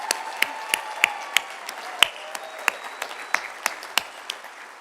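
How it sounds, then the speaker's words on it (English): At a high school graduation ceremony, an audience claps, with distinct, sharp hand claps standing out over a softer background of applause. "Let's give you a round of applause."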